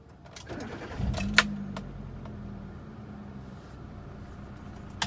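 A 2012 Kia car engine cranks briefly and catches, then settles into a steady low idle, fairly quiet and heard from nearby with a faint clink of keys beforehand.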